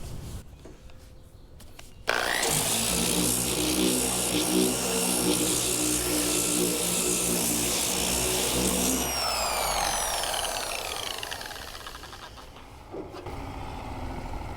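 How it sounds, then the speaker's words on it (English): A dual-action sander fitted with 60-grit paper grinds paint off the cab corner of an OBS Chevy Silverado truck, starting abruptly and running as a loud, steady whirring rasp for about eight seconds before winding down, with quieter shop noise before and after. "I just want to hit it with the DA and see what it's going to look like. I think there's 60 grit on here."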